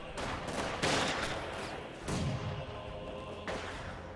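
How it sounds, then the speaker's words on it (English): Gunfire crackles through a WWII strategy video game battle in dense repeated bursts with heavy thumps and booms, loud and continuous over an ongoing combat din. "Ivan is shooting at us!"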